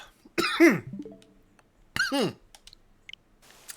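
A man coughs twice, two harsh separate bursts a second and a half apart, close and fairly loud, with quiet clicks and near silence between them.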